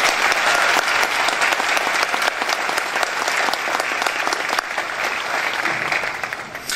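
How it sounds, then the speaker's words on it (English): Sustained, steady applause from a graduation crowd at Williamsville South High School honoring a longtime board member, a full and even wash of many hands clapping throughout. "Please join me in giving a round of applause to Mr."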